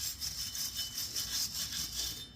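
A wire brush scrubs rust off a car's rear hub flange in steady back-and-forth strokes, a close, continuous raspy scraping with a rhythmic pulse and no talking.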